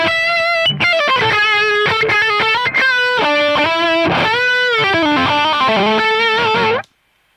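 Heavily distorted electric guitar played through a Headrush Prime using a cloned amp tone, loud and sustained, with bending lead notes and chord stabs for about seven seconds before it cuts to silence.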